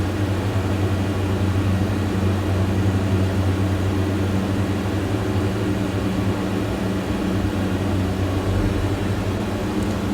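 Steady, loud drone of the Diamond DA-42 twin-engine aircraft's engines in a flight simulator game, a constant hum with strong low tones holding unchanged throughout, with no talking.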